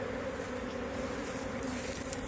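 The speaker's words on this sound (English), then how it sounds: "They're flying around still, but there's still bees coming in and out of this box." Bees buzz around a hive box with bees flying in and out, a steady dense drone heard close and fairly loud without any talking.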